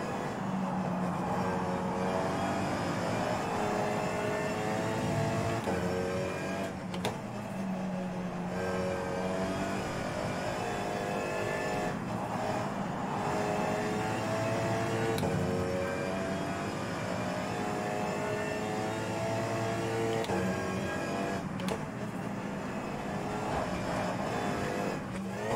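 An Alpine race car engine in the rFactor 2 racing game drones steadily throughout, its pitch climbing and dropping repeatedly as it revs and shifts, loud and continuous with no talking.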